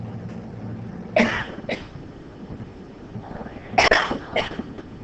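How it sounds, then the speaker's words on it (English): Two pairs of sharp, close coughs from a man, separated by a pause of a couple of seconds, over a low background hum. "I'm getting ready to cough"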